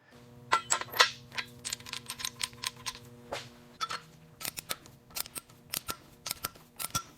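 A run of sharp mechanical clicks from a torque wrench tightening bolts on a Porsche 911, irregular and close, some in quick pairs, over a faint steady hum.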